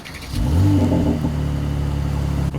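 A 2020 Mercedes-AMG S63 Cabriolet launching: its engine swells into a deep, close burble and then holds a steady, throaty rumble, with no voices.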